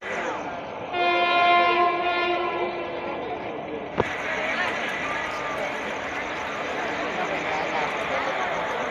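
A passenger train heading to Odisha, with a long tonal horn blast followed by a steady rumbling roar of the moving train heard from on board, loud and continuous, with a sharp clack midway.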